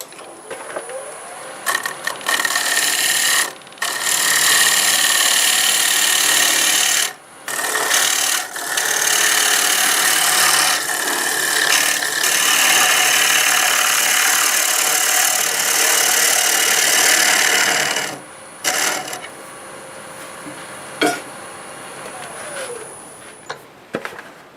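A wood lathe turns a small gift piece while a cutting tool makes another pass, producing a loud, steady scraping rasp in long sustained bursts with short gaps between passes, no talking.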